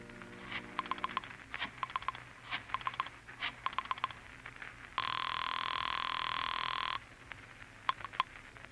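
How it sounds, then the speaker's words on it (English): A telephone is dialed in a radio drama sound effect: a run of quick, close mechanical clicks and pulses, then a steady, loud tone for about two seconds, followed by a few more clicks. "Once you reach your apartment, you dial Julie's private phone at the club"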